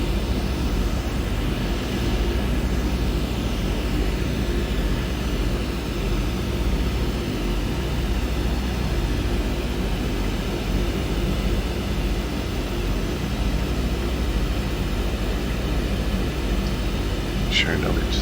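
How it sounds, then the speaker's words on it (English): A simulated aircraft in Microsoft Flight Simulator 2020 taxis at Daytona Beach with a little forward thrust, its engine a steady, loud droning hum that runs unbroken while someone talks over it. "A little bit of forward thrust. And off we are on our taxi."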